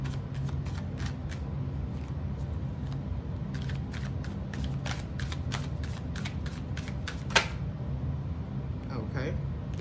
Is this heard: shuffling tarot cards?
yes